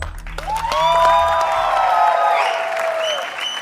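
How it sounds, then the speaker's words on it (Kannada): Applause from a studio audience on a Kannada game show, Super Minute, a steady wash of clapping with bright rising musical tones layered over it, loud and sustained throughout. "ಚಪ್ಪಾಳೆ"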